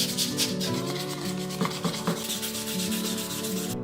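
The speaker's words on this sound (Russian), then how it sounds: "После полного высыхания зашлифовываю мелкой наждачкой." Stained wood being sanded by hand with fine sandpaper, a close, continuous rasping scrub with quick back-and-forth strokes and no talk.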